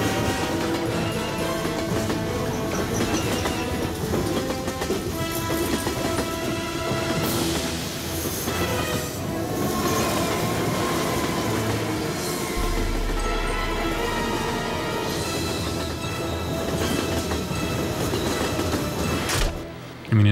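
Train sound effect from a sound library: rumbling and clattering along the rails, continuous and fairly loud, with rhythmic clicks and a brief sharp hiss near the end.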